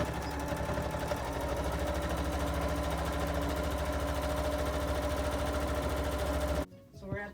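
A sewing machine hums steadily and loudly as it back-stitches the end of a seam on a PUL fabric transport bag. It stops abruptly near the end, leaving faint handling sounds.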